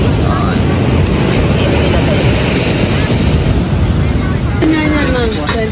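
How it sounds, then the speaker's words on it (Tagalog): Strong ocean waves surge and wash continuously in a loud, wind-buffeted roar at a beach where children wade, with a brief voice near the end. "Lakas ng alon guys."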